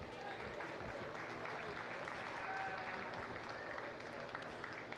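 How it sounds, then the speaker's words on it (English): A crowd at the Monroe County Fair livestock arena applauds the livestock class winners, steady broadband clapping holding for the full stretch with a faint murmur of voices beneath. "Give them a nice round of applause"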